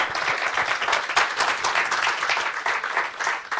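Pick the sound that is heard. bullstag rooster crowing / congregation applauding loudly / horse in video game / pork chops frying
congregation applauding loudly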